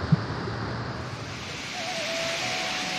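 Harvalem waterfall in Goa rushes in a steady, broad roar of falling water, heard from a distance as a constant wash with a faint tone rising near the end.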